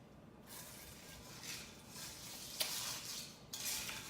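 Crush sodas and ice being stirred together in a large bowl, a steady fizzing, clinking swirl with a sharper clack near the middle and another surge toward the end, no talking.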